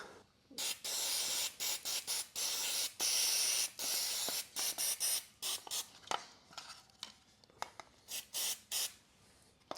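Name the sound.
degreaser spray cleaning a Briggs & Stratton engine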